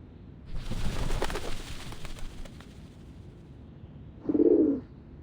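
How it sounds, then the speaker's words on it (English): In the video game Reverse 1999, a dove gives one short, low coo near the end, after a muffled rumbling wash of ambience, with no voices. "The doves of the Whitestone House are here."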